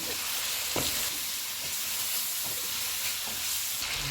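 Chicken pieces sizzling in oil in a karahi for black pepper chicken, a dense continuous close-up sizzle with occasional stirring scrapes and no voices.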